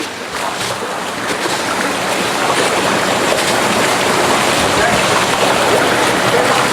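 Fish thrash and splash in a tank at feeding time, a dense, continuous watery churning that builds over the first couple of seconds and then holds loud and busy.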